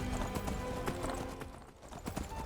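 Steady horse hooves clip-clop continuously in Skyrim Special Edition as the rider comes off a gallop, loud and close with a rhythmic beat under a dense game soundscape.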